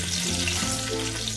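Cumin seeds sizzle in hot oil alongside bay leaves for a tempering, a close, steady crackling fizz with a low hum beneath and no voices.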